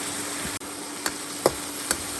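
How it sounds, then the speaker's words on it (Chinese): Ginger, garlic and pickled chilies stir-fry in a wok with a faint sizzling hiss, broken by a few sharp, spaced spatula taps against the pan. "再炒一会儿，炒香了。"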